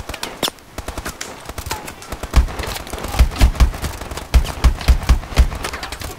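Gunfire from Call of Duty Advanced Warfare: sharp bursts of shots with heavy low thumps, irregular and fairly close, clustered in the back half of the clip over a busy game background.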